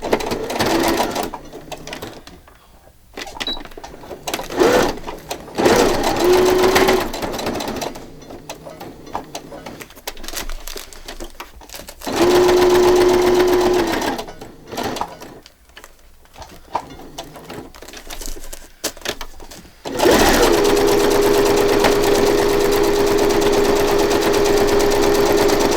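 A sewing machine stitches fabric in several bursts of rapid close whirring, starting and stopping repeatedly with a longer steady run near the end, interspersed with handling noises.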